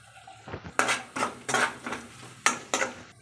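Onions and salt going into a pan with whole spices, a series of about six distinct clanks and scrapes of a utensil on metal over a faint sizzle, close and sharp.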